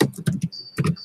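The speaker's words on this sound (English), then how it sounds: "I'm going to type this in here" Quick clattering keystrokes on a computer keyboard, close and fairly loud, in two short bursts separated by a brief pause, with a faint high electronic tone in between.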